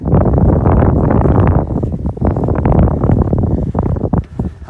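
Wind buffeting a microphone outdoors while walking through open fields toward a woodland, a loud, low, continuous rumble that swells and dips throughout, with some faint rustling.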